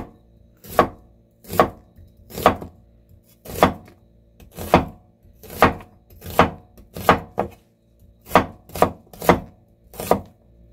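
Knife chopping onion on a cutting board for Korean cheonggukjang stew: about a dozen sharp, close thunks in an uneven rhythm, sometimes paired, with quiet gaps between and no talking.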